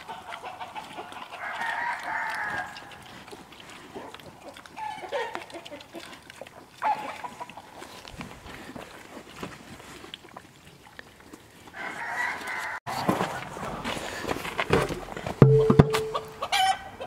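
Chickens on a farm crow and cluck over several seconds, with a loud close crow near the end, pigs and a dog also present, the background otherwise quiet.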